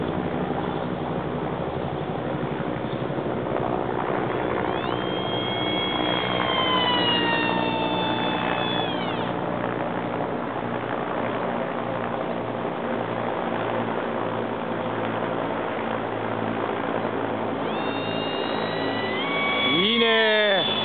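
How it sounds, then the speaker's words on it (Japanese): A Multiplex FunJet 700W electric model jet's motor whines steadily throughout, its pitch rising and falling as it flies around, with people talking nearby. "ラジコンヘリ来た。"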